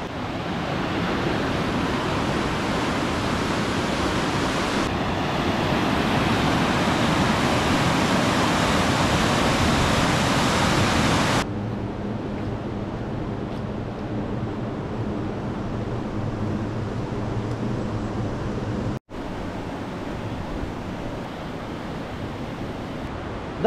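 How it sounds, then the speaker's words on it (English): Fast-flowing river water rushing beneath Tummel Bridge, a loud, steady, broadband roar heard close up with no other sound, broken by a couple of abrupt cuts in level. "the fast flowing water underneath is incredible"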